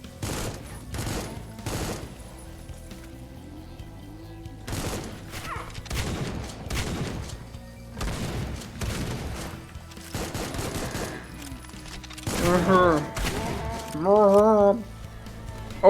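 Gunfire in the first-person shooter Supplice: repeated loud single shots spaced irregularly, with someone talking between them and a warbling electronic tone near the end.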